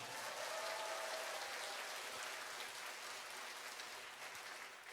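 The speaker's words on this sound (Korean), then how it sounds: "우리 리한 오케스트라와 우리 합창단 여러분들도 함께 박수 부탁드립니다" An audience at a musical concert applauds the orchestra and choir, a faint, distant, even wash of clapping that holds steady and tapers slightly at the end.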